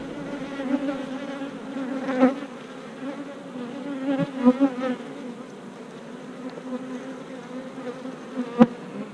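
Honey bees in a beehive hum in a continuous close buzz with a few louder swells and passing wingbeats, no voices present.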